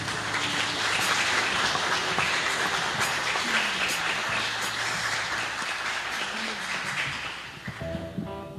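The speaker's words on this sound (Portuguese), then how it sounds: "Aplauda o Senhor, irmãos." Church congregation clapping together during a worship service, a loud, dense wash of applause that holds steady and fades slightly near the end, with music tones underneath.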